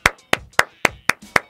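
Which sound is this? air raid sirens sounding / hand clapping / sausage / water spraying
hand clapping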